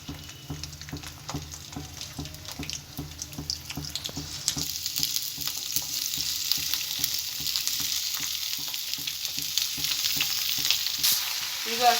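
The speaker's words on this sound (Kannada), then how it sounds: "ಈಗ ಅಷ್ಟೇ ಐಟಮ್ಗಳನ್ನ ಹಾಕೊಂಡು ಎಣ್ಣೆಯಲ್ಲಿ ಈ ಸೂಪರಾಗಿ ಫ್ರೈ ಮಾಡ್ಕೋಬೇಕು" Ingredients for a paneer gravy sizzling and frying in hot oil in a pan, with a steady crackling hiss and rhythmic stirring scrapes that grow denser and louder over time, no talking.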